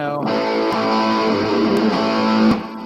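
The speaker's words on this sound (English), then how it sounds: "always liked how this DS1 sounds. It sounds like pretty natural distortion" Electric guitar played through a Boss DS-1 distortion pedal, with thick crunchy chords sustained and changing every second or so, a few sharp pick attacks, loud and close with no talking.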